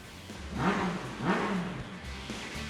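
A motorcycle engine revs twice in quick succession, each rising then falling, fairly close, with a steady idle rumble between and after, on a motorcycle street in Daegu.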